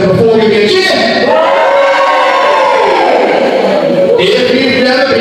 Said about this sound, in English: If you've been to Brindley Pro Wrestling before, give me a cheer!